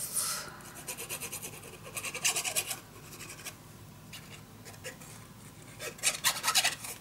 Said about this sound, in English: I'm just going to cut this down and fold and burnish it down.